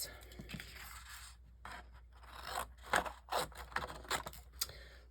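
Scissors snip and crunch through paper pieces being roughly cut out for die cutting in a craft session, a series of quiet, irregular cuts with short pauses between them.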